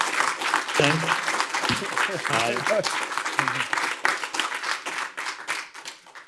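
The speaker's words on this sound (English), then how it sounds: "Big round of applause then, please." Audience applause breaks out at the close of a public talk on living with volcanoes, steady clapping filling the room while a few voices speak over it.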